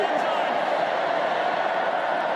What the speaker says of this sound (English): Have a listen to the crowd. They love it when this man gets anywhere near the pill.